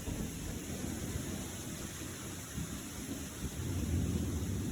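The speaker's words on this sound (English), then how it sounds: "did we get a torrential downpour" Torrential rain pours down at sea aboard a ship, a steady dense hiss with low rumbling thunder underneath, fairly faint and distant, growing slightly heavier toward the end.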